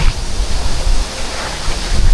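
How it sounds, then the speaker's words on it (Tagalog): Sapang Dalaga Falls in Misamis Occidental, Mindanao, pours in a steady, loud broadband roar of rushing water, close and unbroken, with no voices over it. "Mao ni ang Baga Falls."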